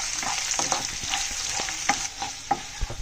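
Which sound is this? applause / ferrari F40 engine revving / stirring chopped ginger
stirring chopped ginger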